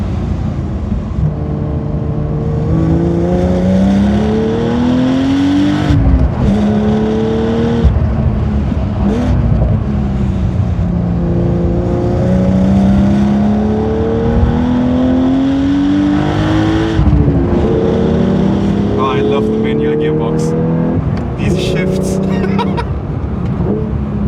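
A 500 hp Porsche 911 with a manual gearbox roars continuously up close, pulling hard through rising revs, with a blip and drop in pitch as it downshifts into second for a corner, then climbing again.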